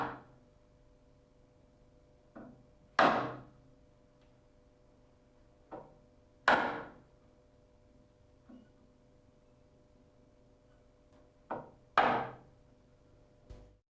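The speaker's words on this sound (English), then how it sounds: "Also, never use a hammer, only a wooden mallet." A wooden mallet strikes a chisel cutting into door timber, giving about eight sharp knocks at irregular intervals, some stronger than others, with quiet pauses between them and no talk.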